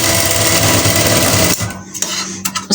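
A sewing machine stitches blouse fabric for a latkan with a loud, close, continuous rapid hum, then stops after about a second and a half, leaving scattered fabric handling and clicks.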